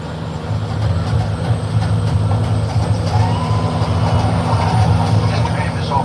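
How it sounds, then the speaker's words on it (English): A Universal Studios theme park tour tram drives along with a steady, loud rumbling roll and a constant engine hum, unbroken throughout. "This tram is overloaded."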